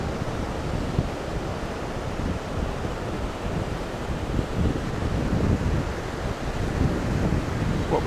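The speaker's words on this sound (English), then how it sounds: "What we call messy surf at the moment." Messy surf breaks at Famara beach in a strong onshore wind, a steady roar of waves mixed with loud buffeting wind on the microphone, continuous and with no talk.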